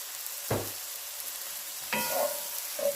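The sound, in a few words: stirring vegetables frying in a pan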